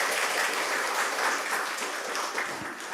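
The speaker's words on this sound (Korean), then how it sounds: "박수 한번 쳐요." A church congregation at a Sunday worship service claps steadily in a big, dense round of applause that fills the whole stretch and fades only slightly near the end.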